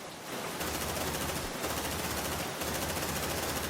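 Suppressive gunfire from Aliens: Dark Descent, a continuous automatic burst of rapid shots forming a dense, loud roar, broken by two brief gaps before firing resumes.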